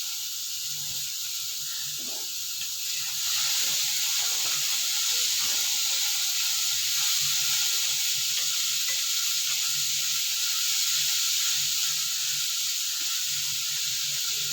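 Chopped banana stem stir-fry (vazhathandu upperi) sizzles steadily in a pan while being stirred, a continuous close hiss with faint scraping, slightly louder after the first few seconds, with no talking.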